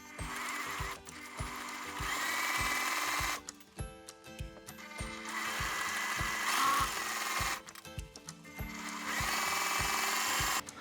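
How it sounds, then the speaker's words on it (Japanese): Sewing machine zigzag-stitching the torn edges of fabric for a long skirt, running in loud sustained bursts with rapid regular needle beats, pausing briefly between runs. "今ビリビリっと裂いた生地端にこのジグザグミシンをかけておきます。"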